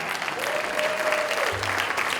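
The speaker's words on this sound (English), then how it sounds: "We need a round of applause." An audience at a keynote address applauds steadily throughout, a dense even clapping with no pauses.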